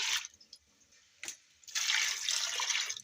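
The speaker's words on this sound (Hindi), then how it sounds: "इसमें मैं डालूँगी ये वाले 2 गिलास पानी के।" Water from glasses pours into a pot of chicken shami kabab mixture in short splashy bursts, a brief gush, a quick splash, then a longer steady pour at close range.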